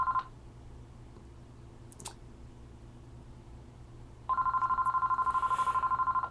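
A telephone rings in a sustained electronic pulsing tone that starts partway through and runs to the end, fairly close, after a brief chirp at the start and quiet background hum.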